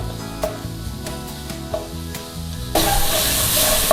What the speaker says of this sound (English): Get our garlic cooked off.